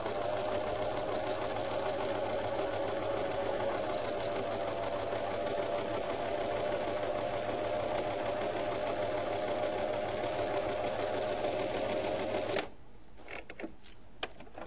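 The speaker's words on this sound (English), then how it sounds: "place it back under your sewing machine and do along the other edge." A sewing machine stitches fabric strips with a steady, fast mechanical whir that runs for a long stretch, then stops, leaving a few faint clicks and handling sounds.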